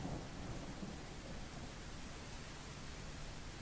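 In the video game Snow Plowing Simulator, distant thunder rumbles faintly and evenly, blending with a steady wash of rain-like noise with no distinct peaks.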